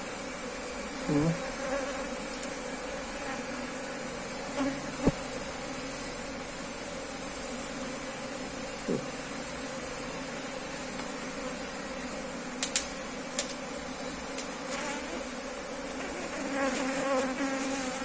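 Honeybees from a kept hive buzz in a steady, close drone throughout honey harvest, with a few faint knocks and clicks of handling the hive frames.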